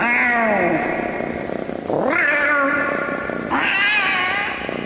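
A cat gives three drawn-out, loud meows in succession, each rising then sliding down in pitch, close and clear over a faint background rumble.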